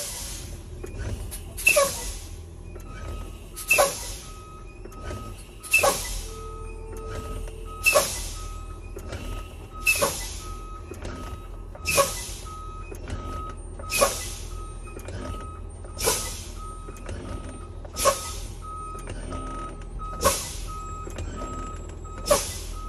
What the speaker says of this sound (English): So I'll step on my brake and release it until my valves pop out.